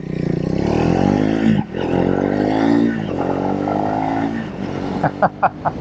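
A Triumph Speed 400 motorcycle being ridden, its engine droning loudly with shifting pitch as revs rise and fall, ending in a few short sharp pops.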